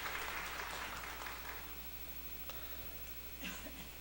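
A church congregation applauds a newly introduced youth ministry pastor, a strong burst of clapping that thins and fades over a few seconds, with a cough and faint voices near the end.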